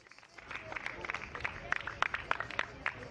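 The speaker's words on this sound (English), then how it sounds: "one big round of applause for your Mini 60 under 10 category" Applause at a karting prize ceremony for the Mini 60 under 10 drivers at Jesolo, Italy, a crowd clapping at moderate distance, rising and fluttering in quick irregular bursts while a voice talks.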